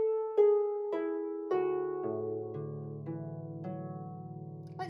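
Harp plucking a short ascending and descending chord pattern, single clear notes ringing and overlapping into sustained low tones, played alone and fairly softly.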